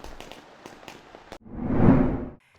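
Fireworks over an island at night: a series of sharp crackling pops followed by a deep, swelling boom that rolls and fades over about a second.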